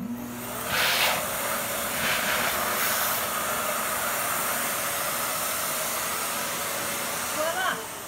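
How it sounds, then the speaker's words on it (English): An EyeVac touchless electric dustpan runs in a living room, sucking up dog hair with a steady, loud airy whoosh that holds for the whole stretch, with a few brief louder surges near the start and a faint clatter near the end. "here's a video of using my electric dustpan"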